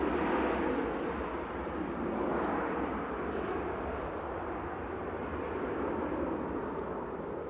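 Two EasyJet jets taxiing out at Manchester Airport, a low continuous rumbling engine roar at a moderate distance, even and unbroken with no speech.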